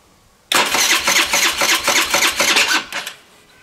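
A modified 50cc four-stroke engine, bored out to 90cc, cranks and catches after half a second of quiet, then runs loud and close with a rough, pulsing beat before faltering near the end.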